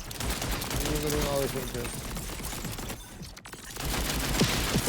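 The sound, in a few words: gunfire in the video game Borderlands 3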